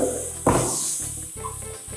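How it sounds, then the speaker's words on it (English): Peppers and onions sautéing in a pan, a steady close sizzle with a brief louder burst as they go in, followed by faint stirring knocks. "We're gonna add the peppers, onions"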